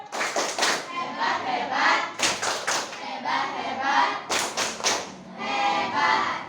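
A classroom of children doing a patterned group clap, loud rhythmic bursts of hands clapping in unison with short pauses between sets, children's voices mixed in.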